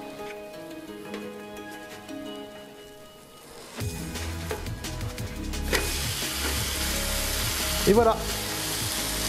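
Okonomiyaki batter cooking gently in a pan, a quiet start giving way to a steady bright sizzle that continues to the end, with a short spoken phrase near the close.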